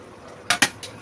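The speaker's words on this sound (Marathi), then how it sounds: "अजून एक कुकर ठेवते" In a home kitchen, a pressure cooker is set down on the tightly lidded pot of chicken biryani, which already has a heavy mortar and pestle on top. A few sharp metallic knocks and clanks land close together after a quiet start.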